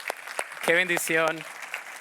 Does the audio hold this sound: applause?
yes